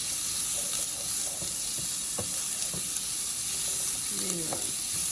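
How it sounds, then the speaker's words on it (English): Onions sizzling and frying in hot oil in a pan, a steady bright hiss with a few soft stirring scrapes and clinks, no talk. "So we add our onions."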